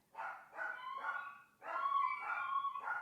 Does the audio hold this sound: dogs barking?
yes